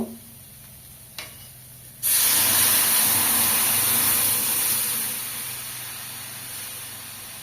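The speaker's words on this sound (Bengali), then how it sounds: "এবার আগে থেকে সিদ্ধ করে রাখা মুগ ডাল আমি ঢেলে দেব।" Pre-boiled mung dal poured into hot fried spices in a pan, giving a sudden loud, broad sizzle that holds steady and then eases slightly as the hiss continues.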